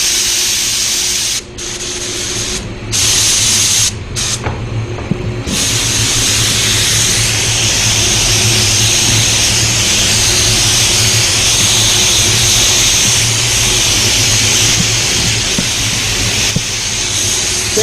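Spray gun laying a lighter third coat of PPG paint onto a car: a loud, close, continuous hiss running almost unbroken, with a few brief pauses near the start.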